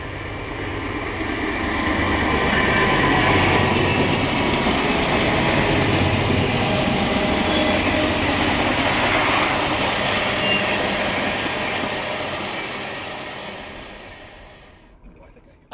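A freight train led by an SD80MAC with a standard cab SD60 in tow rolls past in Dalton, Georgia, a loud sustained rumble and wheel noise that swells, holds, then fades away.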